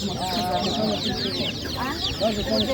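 Chickens cluck and squawk in a dense, busy chorus at an animal market, close and loud, while people talk underneath.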